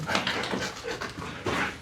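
A gendarmerie sniffer dog pants in quick, steady breaths while searching cellars for drugs, close and fairly loud, with a faint whimper at moments.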